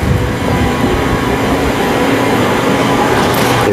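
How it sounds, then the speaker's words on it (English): A train at Airport Central station rumbles along the platform in a loud, continuous roar of wheels and motors, steady throughout and rising into a brief higher whine near the end, with no talk. "we'll watch this train go"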